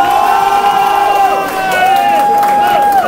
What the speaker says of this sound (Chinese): 再给她热烈掌声